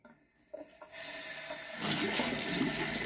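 Water running from a newly installed bathroom sink faucet with its hot supply open, starting faint and then gushing into a steady, loud rush that fills the rest of the moment.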